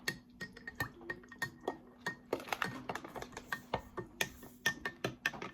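A spoon clinks rapidly against a glass or cup while a colonoscopy prep drink is stirred, producing quick, close, irregular ticking taps in a steady run with a faint hum underneath.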